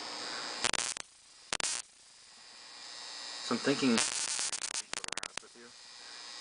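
A box atop a high-voltage coil gives off a crackling static buzz in sharp, loud broadband bursts, some steady, others rapidly stuttering, with a quiet hum in between and someone talking briefly.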